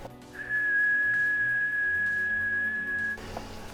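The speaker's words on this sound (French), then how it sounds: "si je siffle dans le microphone," A person whistles one long, steady, pure tone into the microphone of a Citizen MPL-5 AM/SSB CB radio during bench testing, holding it for about three seconds over a faint hum.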